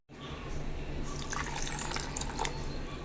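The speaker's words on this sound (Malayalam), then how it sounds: "അരച്ചെടുക്കാനുള്ള വെള്ളം നമുക്ക് ഒഴിച്ചു കൊടുക്കാം" Water is poured onto grated coconut in a grinder jar, heard as a close, brief stream with trickling and dripping splashes over a few seconds.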